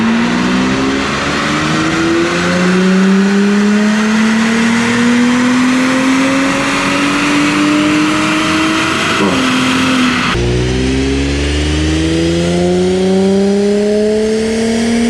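Audi B9 S4 with an AWE exhaust, running stock on a dyno, revs loudly and steadily with rising engine pitch through two long sweeping pulls, the second starting after a brief drop, with no talk.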